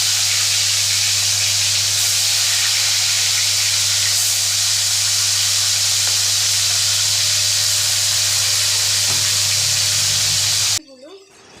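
Bhola fish frying in hot oil in a pan gives a loud, steady sizzle and hiss that runs for about eleven seconds before cutting off abruptly near the end.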